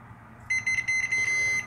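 A multimeter set to continuity mode emits a steady electronic beep, starting abruptly partway in and holding with a few brief dropouts as probes touch LED wiring for a model railroad, close and fairly quiet.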